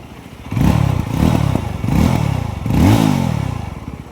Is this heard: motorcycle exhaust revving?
yes